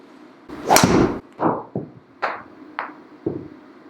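Callaway Mavrik driver striking golf balls: a loud, sharp impact crack, followed by several quicker, lighter strikes or thuds at irregular intervals, nearby and without talk.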